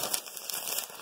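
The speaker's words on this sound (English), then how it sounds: "Crumple. Yeah, you can just crumple it." Paper being crumpled by hand, a dense close crinkling and crackling that runs continuously for about a second.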